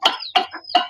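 A rooster clucks near the mic among its chicks, three or four quick bursts of clucking over under a second, with a thin high chick cheep running between them.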